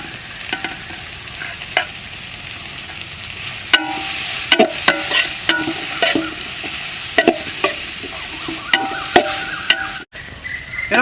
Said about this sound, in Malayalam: നമുക്ക് ഇത് നല്ലോണം ഒന്ന് ഇളക്കി കൊടുക്കും